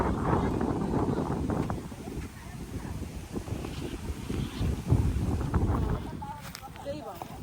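Wind buffets the microphone beside a river at a camping spot, a steady rough rumble running through the clip with speech over it.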